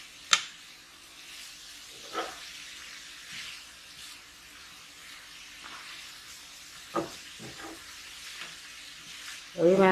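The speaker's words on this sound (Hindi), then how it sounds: "अब इस लौकी को हमें लगातार चलाते हुए जो हमने घी डाला है उसमें हमें भूनना है इसको अच्छे से" Grated bottle gourd (lauki) roasts in ghee on a full flame for laddu, a soft steady sizzle broken by occasional scraping knocks of a spoon as it is stirred.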